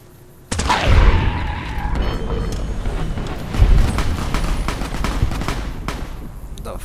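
Gunfire erupts in Fallout: New Vegas, a sudden loud burst of rapid shots followed by sustained automatic fire and further cracks, with a voice faintly audible.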